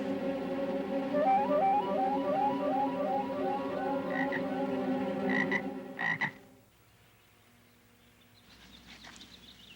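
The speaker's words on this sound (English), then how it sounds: "Boy, a real frog." A frog croaks in a loud, rapid, rhythmic chorus that continues for about six seconds, then stops abruptly, leaving faint background noise with no talking.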